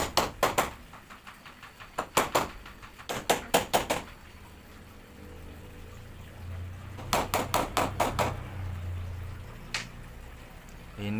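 Concrete nails, 2-inch and 1-inch, driven into a wall moulding panel: sharp hammer strikes in quick clusters of several blows, loud and close, with pauses between groups.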